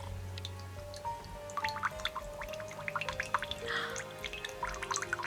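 Water drips and trickles into a glass of vintage 1900 Pernod Fils absinthe, a run of small, close, irregular plinks and splashes against a faint steady background hum.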